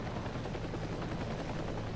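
A steady, dense helicopter rotor drone in the video game Heliborne fills the whole stretch, loud and continuous with a fluttering low thump and no voices.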